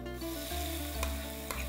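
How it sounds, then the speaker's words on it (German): Ricotta sizzles and frys in a pan while being stirred, a steady close hiss with scraping stir sounds and a couple of brief clinks, no voices. "Jetzt Ricotta ab in Pfanne."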